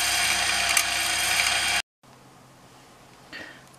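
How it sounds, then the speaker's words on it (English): Sewing machine winding thread onto a bobbin, a loud, steady mechanical whir that stops abruptly partway through, followed by quiet with a faint clunk near the end. "I haven't got this colour on the bobbin and I will need it, so I'll let it fill completely."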